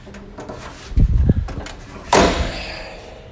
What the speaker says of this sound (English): these stairs are going to flip up into the door frame